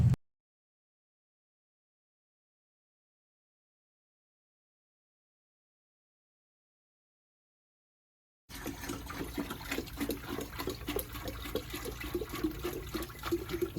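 Motor oil glugs and splashes steadily as it is poured into the big thirsty V8 of a BMW E92 M3 during maintenance, a continuous liquid gurgle that starts after a long silence and stays close and moderately loud.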